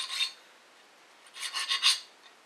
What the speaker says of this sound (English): You can do it with a hacksaw blade